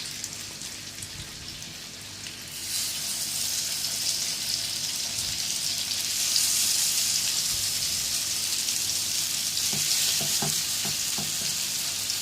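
Chicken boti kabab pieces fry in oil in a pan, a soft background crackle that swells into a loud, continuous sizzle as pieces go in, with light clinks and taps toward the end and no voices.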